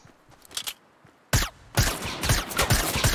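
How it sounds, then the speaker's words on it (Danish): Gunfire aimed at the player in an online team video game, a sudden loud burst followed by sustained rapid shots and impacts, close and harsh, after a quieter stretch of faint clicks. "Dammit, jeg bliver skudt på"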